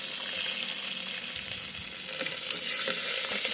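Curry leaves sizzling and frying with ginger garlic paste and turmeric in hot oil, a steady loud crackle with occasional stirring scrapes, no voices.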